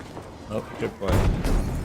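A tripwire bomb explodes in the shooter game Battlefield 5 with a sudden loud, rumbling boom. A short spoken voice comes just before the blast, which then lingers briefly.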